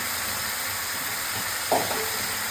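Home-grown tomatoes sizzle in a hot pan with a steady, even hiss, broken once by a brief clatter of utensils.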